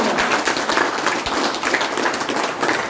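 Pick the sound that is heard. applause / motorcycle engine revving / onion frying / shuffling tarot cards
applause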